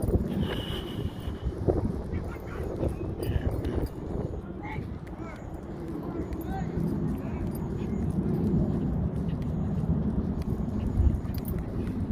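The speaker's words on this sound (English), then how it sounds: "Like I said, it is very windy today." Strong wind blowing across flat open ground beside a road, a constant loud rumbling buffet against the microphone lasting throughout, with faint background sounds mixed in.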